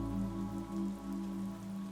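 Rain falls steadily for the whole short stretch, with soft patters over tonal background music and no voices.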